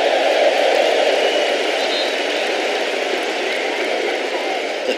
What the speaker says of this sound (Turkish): Fatih Terim alkış alıyor